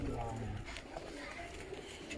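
Pigeons cooing on a rooftop loft, low soft coos running under steady nearby conversation among men.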